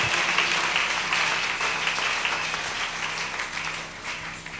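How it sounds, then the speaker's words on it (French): A church congregation breaks into loud, dense applause that slowly fades over a few seconds, with no voices over it. "J'aime bien que toute l'église acclame cette parole."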